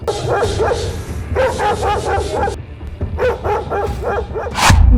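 A man on the Bigg Boss Tamil reality show imitates a dog barking, voicing loud, close bursts of yapping barks in quick groups with short pauses between them.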